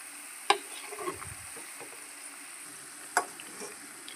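Chicken pieces frying in oil for pickle, browning with a soft steady sizzle, broken by two sharp clicks of a spoon against the pan.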